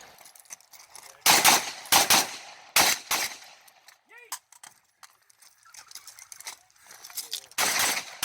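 Sharp, loud gunshots from a ZPAP M70 AK-47 rifle at a shooting match, fired in quick clusters of two or three with quieter gaps of movement and faint background noise between strings.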